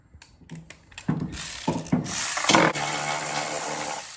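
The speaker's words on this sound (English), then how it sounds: "Then we get my wrenches. All right, we'll take the covers off first." A hand wrench ratchets and clicks while bolts come off the deck covers of a John Deere E130 riding mower, giving short uneven mechanical clicks that build into a denser metallic rattle, close by with no talking.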